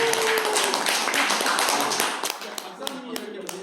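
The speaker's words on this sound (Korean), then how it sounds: "우리 박사님 와 계시는데 우리 박수 한번 쳐드릴게요" An audience at a motivational lecture claps together for a visiting doctor, a dense burst of applause that thins out into scattered claps while a voice speaks over it.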